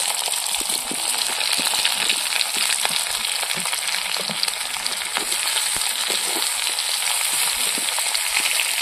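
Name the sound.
frying onions, green chillies and fried potatoes in a pan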